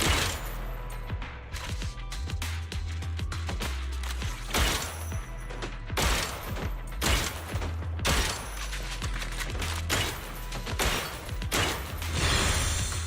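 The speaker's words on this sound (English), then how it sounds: "This is not a rifle, this is a machine gun." Machine gun fire at a shooting range in Zenless Zone Zero, rapid loud bursts of shots in several volleys with brief gaps between them, no talking.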